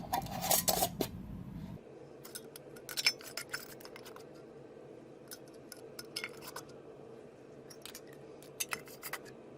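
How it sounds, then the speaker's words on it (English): Lids being put on glass canning jars filled with burrito mix before pressure canning, with a short rush of noise followed by a run of light metallic clicks and clinks near the mic. "Now I'm going to add the lids fingertip tight."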